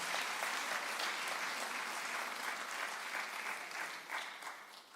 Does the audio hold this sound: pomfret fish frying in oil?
no